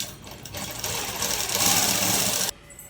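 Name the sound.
sewing machine stitching lining and dress cloth together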